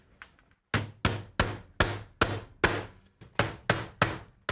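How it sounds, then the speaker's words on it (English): Galvanized 1¼-inch roofing nails driven into a roof with a hammer: about eleven sharp, ringing blows in a steady rhythm after a few soft taps, close and loud with no talk. "Now I just nail it in place."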